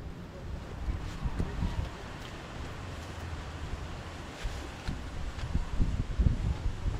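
Steady low wind rumble buffeting the microphone at a cold mountain valley campsite, with gusty bursts swelling louder toward the end; no talking.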